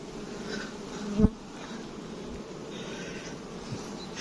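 Honey bees hum around a hive frame of a small one-frame split colony, a steady, close buzzing drone with a brief thump partway through.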